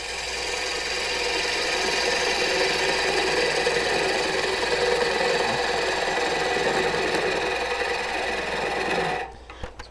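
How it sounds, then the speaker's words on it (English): Wood lathe with a gouge taking a light open-flute cut on a green-wood bowl: a steady, continuous whirring scrape with a faint rubbing texture, holding even and fairly close for nine seconds before stopping abruptly. "Now this is an open flute cut, and if you notice, I'm just taking a very thin bit of material off."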